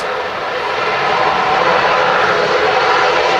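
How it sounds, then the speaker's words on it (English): A TUI Boeing 787 Dreamliner taxis at Manchester Airport, its jet engines producing a loud, steady roar that swells slightly and holds for the whole stretch. "Oh, it's a Dreamliner behind it, okay. Yeah, we got the TUI Dreamliner"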